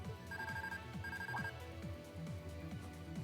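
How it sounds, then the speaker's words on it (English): A phone rings in the video game Trails of Cold Steel II, two short electronic trilling bursts over steady game music, fairly quiet and in the background. "Hold on, I've got a phone call."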